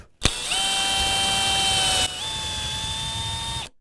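A Fastcap Flushmount countersink drill bit bores a screw hole in cabinet material, giving a steady, loud power-drill whine of about three and a half seconds whose pitch steps up once partway through before it stops.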